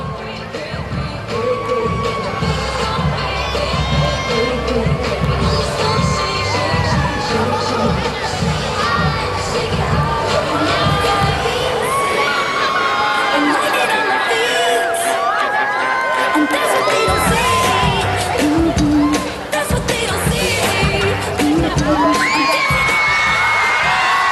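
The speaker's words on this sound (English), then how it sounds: "A lot of young fans in the crowd enjoying the performance." Young fans at a rhythmic gymnastics mixed apparatus event at the 29th SEA Games 2017, a loud arena crowd with shrill children's shouts, whoops and cheering, sustained throughout and swelling in bursts.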